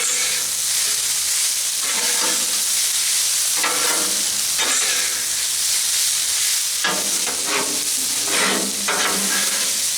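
Ground beef stir fry sizzling steadily on a Blackstone griddle while a spatula scrapes and stirs it in repeated bursts, loud and close, with no talking.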